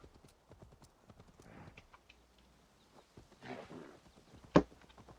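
Horse hooves clip-clop in Assassin's Creed Valhalla, a steady run of close, light thuds with a brief whinny-like burst near the end, no talk over it.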